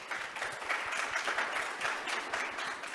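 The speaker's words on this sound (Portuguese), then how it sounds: "Uma salva de palmas." An audience at a talk on road maintenance claps in a steady, moderately distant round of applause, many hands blending into a continuous patter.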